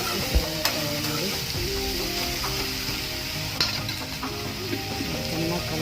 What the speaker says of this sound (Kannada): ಈಗ ಟೊಮೆಟೊ ಕೂಡ ಹಾಕಿ ಫ್ರೈ ಮಾಡ್ಕೊಂಡು ನೋಡಿ